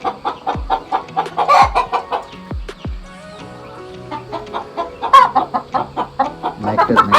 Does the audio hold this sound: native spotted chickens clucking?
yes